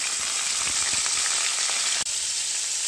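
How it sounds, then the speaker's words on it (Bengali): Pointed gourd (potol) fries in oil in a wok, giving a loud, close, continuous sizzle with crackling spits and a brief dip partway through; nobody speaks. "দেখুন, পটলগুলো ভাজা হচ্ছে।"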